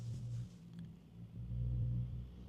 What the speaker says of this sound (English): there's a rude truck making so much noise